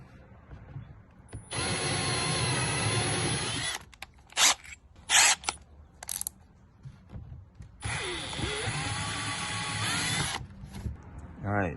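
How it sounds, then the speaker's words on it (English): A power drill with a step bit bores a 1/4 inch hole while a radio dash mount is installed in a 2004-06 Toyota Tundra or 2001-07 Sequoia. Two long, steady whirring runs are separated by several short bursts, close and loud, with no talking. "I like to step it up to the 1/4 inch size hole"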